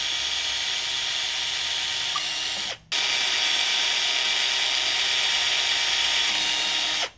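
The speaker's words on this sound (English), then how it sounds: "Then drill each of the small pieces, keeping the drill as square as possible." Power drill boring holes in small wooden pieces for a breakfast-in-bed tray, a loud steady whirring run that cuts out briefly, restarts and keeps going until a final stop, close up with no talking.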